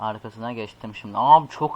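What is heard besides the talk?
No distinct noise like a dog, phone or traffic.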